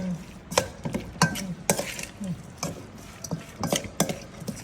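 A spoon scrapes and clacks repeatedly through a spicy Thai-Lao salad of sliced chili, shallot and lime juice, rhythmic stirring strokes close up with faint sizzle-like hiss between.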